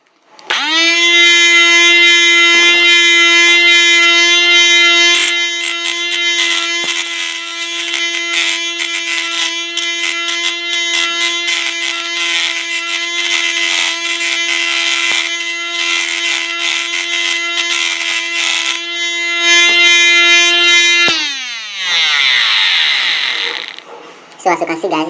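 A homemade sandpaper machine driven by a small 5-volt motor runs with a loud, steady high-pitched electric whine for about twenty seconds, then winds down abruptly and rattles briefly near the end.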